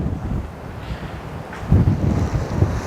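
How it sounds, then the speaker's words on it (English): Strong outdoor wind buffets the microphone in loud, low rumbling gusts that swell and fade, growing heavier toward the end. "if you can see the wind, it is actually pretty doggone strong"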